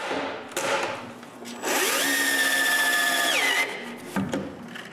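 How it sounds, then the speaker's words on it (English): A power drill drives screws into wooden cabinet drawers. There are short bursts of the drill, then one sustained whirring run that winds up, holds and winds down, then a brief clack of handling. The drill is close and loud. "After screwing a screw into the drawers from the front pull holes, I can open the drawers and add screws from the inside."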